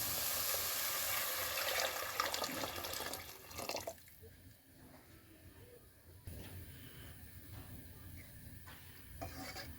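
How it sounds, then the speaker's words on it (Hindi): Two glasses of water pour into a pot of raw potato kebab mixture with finely chopped green coriander, a steady close splashing that runs for several seconds before settling into quieter kitchen movement and faint clinks. "अब इसमें 2 गिलास पानी ऐड कर लेंगे।"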